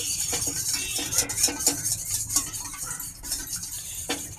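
Egg being beaten with a utensil in a bowl for paneer pancake batter, a quick steady run of close clinking and tapping strokes with no talking.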